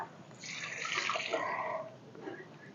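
Boiled pumpkin leaves poured into a basket in a home kitchen, with a steady rushing splash of water draining through for about two seconds before it tapers off.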